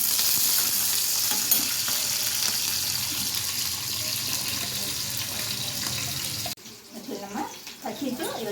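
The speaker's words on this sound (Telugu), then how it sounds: "పచ్చిమిర్చి ఇవి చక్కగా వేగింది" Green chilies frying in hot oil for Mysore bonda, a steady loud sizzle that drops abruptly near the end, followed by softer stirring and clattering.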